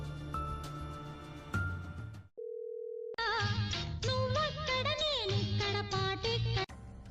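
Telephone call tones: music plays at first, then a steady single-pitch tone for about a second, followed by a melodic ringback tune playing continuously.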